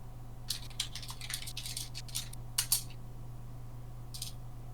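Bursts of typing on a computer keyboard during a Sonic Adventure 2 Battle bingo race stream, irregular clusters of clicks over a steady low hum, with a short pause and a final brief flurry.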